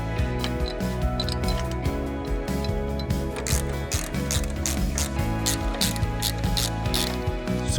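A hand ratchet clicks steadily while a 9/16 bolt is tightened to the chassis of a Harley-Davidson M8 Softail, with rapid close pawl ticks in repeated bursts and a busy mechanical rattle underneath.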